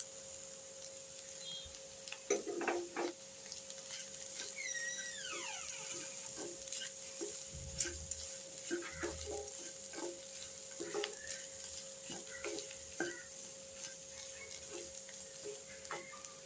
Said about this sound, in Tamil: இந்த மாதிரி முட்டையை நல்லா உடைச்சி விட்டுட்டே இருக்கணும்